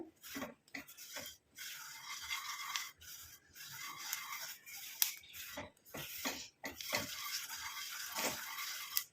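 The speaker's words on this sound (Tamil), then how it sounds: "நம்ம கையெடுக்காமல் நல்லா இந்த மாதிரி கிளறி விட்டுக்கிட்டே இருக்கணும் நல்லா வறுபட்டுருச்சு பாருங்கள்" A spoon scrapes and stirs an Ayurvedic herbal hair-dye mixture dry-roasting in a pan, in repeated short rasping strokes with brief pauses between, close and clear.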